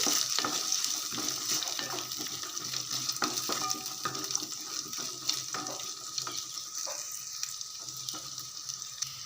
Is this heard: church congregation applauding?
no